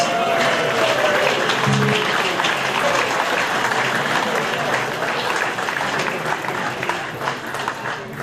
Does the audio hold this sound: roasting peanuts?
no